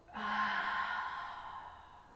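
A single long, audible exhale during a yoga class, breathy and soft, fading out gradually over about two seconds.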